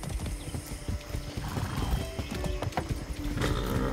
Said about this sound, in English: I haven't ridden a horse since basic training.